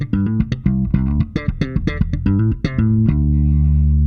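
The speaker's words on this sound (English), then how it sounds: "Here I have a Fender Jazz strung with some flat wounds. Even with tone on maximum, it's going to sound like this." A Fender Jazz bass strung with flatwound strings, slapped and popped in a quick funky line that ends on a sustained low note, with a dull, rounded tone, close and loud, no talking.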